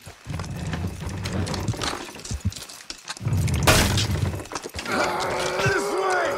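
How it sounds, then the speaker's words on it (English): In Red Dead Redemption 2, horses strain to pull a structure down, with hooves clip-clopping, wood groaning and a sudden crash, while characters shout and talk over the effort. "Horses will pull it clean down."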